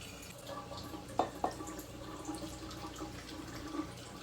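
Very hot water runs from a tap into glass canning jars being filled for green beans. A soft continuous splashing flow carries two sharp clinks of glass near the start, with no voices.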